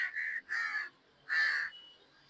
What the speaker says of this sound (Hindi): ऊपर कौवे भी इंतजार में, बड़े बड़े कीड़े निकलेंगे